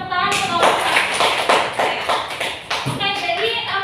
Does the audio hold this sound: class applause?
yes